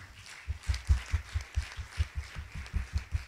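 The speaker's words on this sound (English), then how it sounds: "A hand of applause, ladies and gentlemen." Audience at an awards ceremony for a university capital market challenge clap in a steady, rhythmic beat, moderately loud, with low thuds marking each clap and no speech over it.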